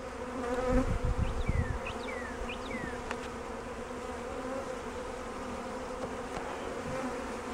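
Package honeybees buzz steadily as they enter a newly installed hive, a dense close hum with louder bursts early on and a few individual bees darting past.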